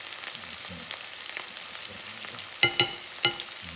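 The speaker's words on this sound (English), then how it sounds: "I'm going to now pop a little bit of garlic in there to give it that extra flavour" Garlic added to a pan of frying bacon and potatoes sizzles with steady crackle, broken by a few sharp clicks and knocks of a utensil against the pan, close and moderately loud.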